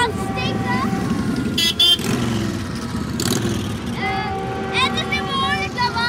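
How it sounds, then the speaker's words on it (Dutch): Motorcycles pulling up at a busy Groningen street event, engines rumbling and revving steadily beneath a crowd's chatter, with a couple of sharp horn-like toots and people talking over the noise throughout. "Er komen allemaal motors."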